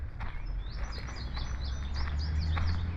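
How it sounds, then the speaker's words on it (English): Birds in a forest chirp in a quick run of high, rising tweets over a low rumble of background noise, fairly close and steady throughout, with no voices. "Lots of happy birds, as Bob would say, chirping away today."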